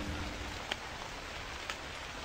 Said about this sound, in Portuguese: Dia de chuva. Lindo dia de chuva.